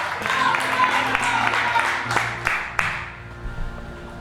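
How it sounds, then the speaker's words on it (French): Congregation at an Easter church service bursting into applause and cheering, a dense wash of clapping that thins out into scattered claps, with voices mixed in. "Si tu le crois, acclame Dieu."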